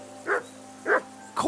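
A dog in Kingdom Come Deliverance 2 gives three sharp, evenly spaced barks at close range over a low steady hum.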